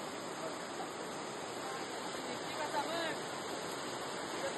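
Floodwater after heavy rain surges along as a steady, fairly faint broadband rush of flowing water, continuous and unbroken throughout.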